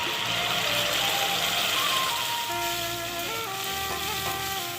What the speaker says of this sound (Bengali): ভিনিগারে ভিজিয়ে রাখা ক্যাপসিকাম আর পেঁয়াজটা মিডিয়াম ভেজে নেব, হালকা ভেজে নিচ্ছি